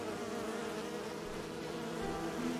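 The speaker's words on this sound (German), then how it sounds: "Alter, hier ist ja alles voller Bienen." Within the video game Enderal, a swarm of bees drones in a steady, continuous buzz that holds low and even throughout, with no voices present.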